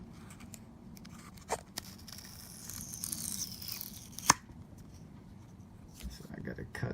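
Scissors or a blade cutting along the edge of an Apple Smart Battery Case made for the iPhone XS Max, giving scattered scraping and snipping sounds, one sharp snap, and a longer tearing rasp, close and fairly faint, with someone talking.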